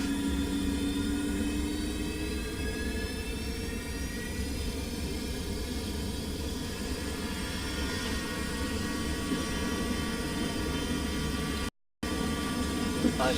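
Aircraft engines spooled up for takeoff, a dense continuous roar with rising whine tones over about thirteen seconds, loud and steady, with a brief dropout near the end.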